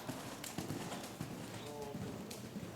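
A horse canters during a riding lesson in an arena, its hooves striking the ground in a quick, steady three-beat rhythm. A voice sounds faintly beneath the hoofbeats.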